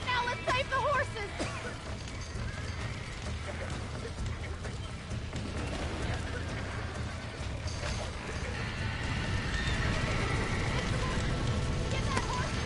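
Horses whinny and hooves clop amid rain and crackling in a Red Dead Redemption ranch scene, with neighs rising over a constant rumbling background while a person talks throughout.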